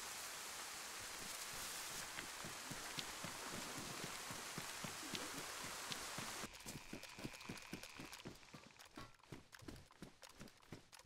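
Steady rain falls in the DayZ video game, a dense even hiss with a patter of drops, changing texture partway through as the downpour sounds closer and more rhythmic.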